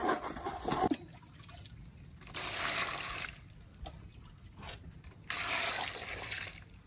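Water boils in a pot for bamboo shoots outdoors, giving three loud surges of gushing, splashing liquid separated by quieter bubbling and trickling, close by and without talk.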